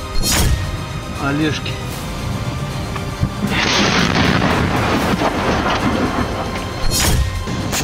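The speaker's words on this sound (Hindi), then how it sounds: "यूक्रेन की सेना ने यहां रशियन फोर्स पर गोलाबारी शुरू कर दी है।" Artillery shelling and explosions in wartime footage from the Oleshky area of Kherson, Ukraine: several heavy booms with a long rumbling blast in the middle, loud and close, while a voice speaks throughout.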